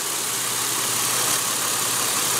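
A 2015 Nissan Xterra idling just after start-up, a steady, even engine hum with a low constant rumble and no other sounds.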